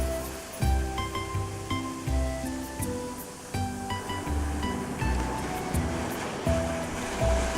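Waves wash onto the beach at Anse Lazio, a netted swimming beach, in a steady rolling surf with periodic swells, close and moderately loud, no voices.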